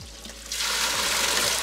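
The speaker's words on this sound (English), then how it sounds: "As you can hear in the background, mission success. We have found fresh water." Fresh water flowing on an island, a continuous close splashing rush that starts suddenly and holds steady, like a stream or spout pouring.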